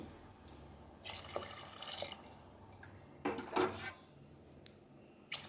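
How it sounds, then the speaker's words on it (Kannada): Hot water is poured from a glass into a pot of rice for vegetable pulao, giving soft splashing bursts and a few drips over a quiet kitchen background with no talking. "ಐದು ಗ್ಲಾಸ್ ನಾನು ಬಿಸಿ ನೀರನ್ನ ಸೇರಿಸ್ಕೊತಾ ಇದ್ದೀನಿ"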